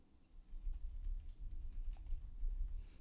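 Typing on a computer keyboard during a Windows 11 browser search, with soft, steady, continuous key clicks throughout and no talk.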